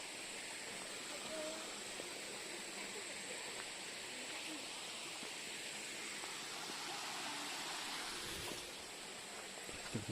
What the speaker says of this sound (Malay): Anak sungai.